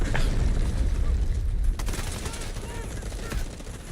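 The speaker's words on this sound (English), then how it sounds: "I mean, that is a lot of explosions." Dense video-game battle chaos in a showmatch: rapid machine-gun bursts and heavy explosions pile up with rumbling booms, loud and continuous, easing slightly toward the end, with clouds of smoke implied by the barrage.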